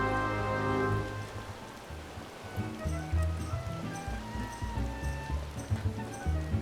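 Rain patters steadily in the video game Final Fantasy 14. The patter is soft and runs under a tonal game music bed with low note changes, and nobody speaks.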